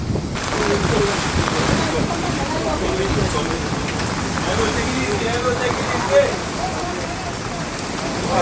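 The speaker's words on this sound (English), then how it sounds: "It's raining again" Steady rain patters over a constant noisy wash near the shore between Castle Comfort and Roseau the day after Hurricane Maria, with a louder splash or gust near the end; the downpour continues throughout without pause.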